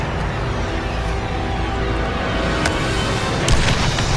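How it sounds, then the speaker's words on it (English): A thrown grenade's blast heard as a loud, sustained rumbling roar with broadband noise, followed by a few sharper cracks near the end, close and powerful with no talk. "That was a larger explosion."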